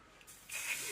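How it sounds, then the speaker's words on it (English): Lace spray misted onto the edges of natural hair, heard as a soft hiss, then a louder, steadier burst of aerosol spray taking up the second half, close and alone. "I just spray my edges with that."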